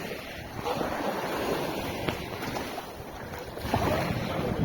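Steady wind buffets the microphone by the sea, with a constant rush of waves and water noise throughout, swelling slightly near the end.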